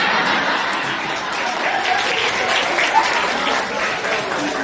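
A room of fourth-year homeopathy students claps after a seminar presentation on peptic ulcer, a dense, continuous round of applause from a seated group, steady for several seconds with faint murmurs underneath.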